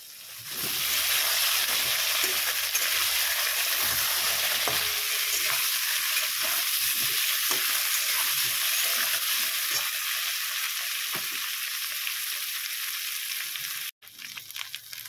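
Raw green banana fries in a pan for a rohu fish curry, a dense continuous sizzle heard up close with occasional faint stirring scrapes, cutting off abruptly near the end.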